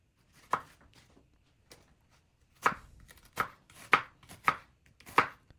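A knife chops cauliflower on a cutting board for aloo gobi, giving sharp, close, isolated thuds: one early, a faint tap, then five firmer cuts in uneven rhythm with quiet pauses between.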